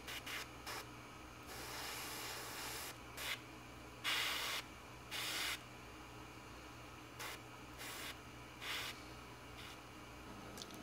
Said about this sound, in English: we've got a quick spritz of hairspray